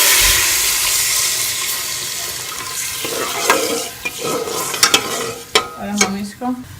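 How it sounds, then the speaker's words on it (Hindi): Homemade jaggery syrup pours into a hot cooking pot for jaggery rice with a loud, rushing splash and sizzle, followed by intermittent stirring scrapes and bubbling. "हमने गुड़ का जो शीरा बनाया था वो हम इसमें शामिल कर लेंगे"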